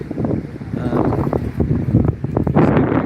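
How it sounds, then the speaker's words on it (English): Wind gusts buffet the microphone at North Beach, Durban, in a rough, rumbling roar that rises and falls, loud and close, with a voice talking beneath it. "a bit windy today, so I'm trying to stay out of the wind around here"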